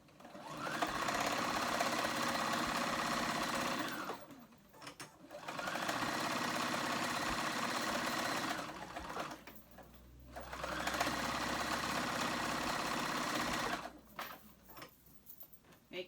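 Sewing machine stitching along the edges of fabric for a ruched tee, three long bursts of rapid, even needle clatter, each lasting about four seconds and separated by short pauses.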